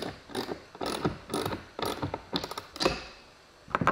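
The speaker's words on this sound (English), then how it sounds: "And now to pop in the screws." Screws being driven into a skateboard during assembly: a run of short, ratcheting clicks in bursts, close and distinct, with a brief pause near the end.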